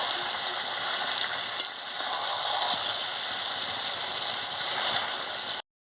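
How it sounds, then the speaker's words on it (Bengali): Mutton and potatoes fry in oil with a constant, fairly loud sizzle while they are stirred. One sharp knock comes early, and there is no talk. "ভালো করে কষিয়ে নিচ্ছি।"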